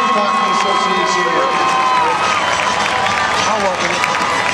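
Arena crowd at a FireAntz hockey game cheering and applauding for the King Peter Youth Hockey Association, a loud, dense roar of claps and shouting voices filling the whole stretch without letup.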